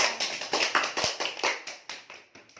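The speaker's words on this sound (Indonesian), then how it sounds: "Kasih tepuk tangan untuk Nisa." A classroom of students claps for a classmate, a short burst of scattered, uneven hand claps that taper off over a few seconds, close and without talk.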